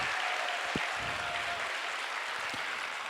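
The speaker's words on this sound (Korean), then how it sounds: "박수!" Audience applause at a school presentation: steady, dense clapping from a crowd that holds at an even level throughout, with a faint tonal hum and a few thumps, no speech.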